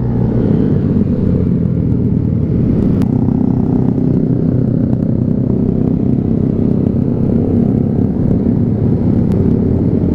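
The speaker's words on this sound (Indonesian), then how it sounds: "Segala jenis motor ada ini." Motorcycles of many kinds crowd a busy Jakarta Sunday morning ride, a continuous low engine rumble and clatter of traffic close by, loud and steady with no talk.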